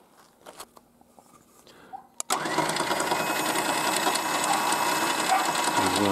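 A Chinese 12000-pound electric winch, worn after a year of use, starts abruptly after a few quiet clicks and then whines and grinds continuously at close range with a steady mechanical gear rattle.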